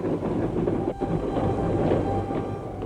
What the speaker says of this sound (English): as the troop trains rumbled across France to the decisive point